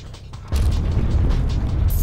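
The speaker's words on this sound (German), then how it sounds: "Mich würde mal interessieren, was hier alles so explodiert." Explosions in the Deadpool video game: a heavy booming rumble kicks in abruptly about half a second in and keeps going as a loud, dense low roar through the rest of the clip, with rattling mechanical debris on top.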